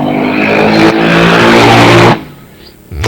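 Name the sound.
motorcycles passing by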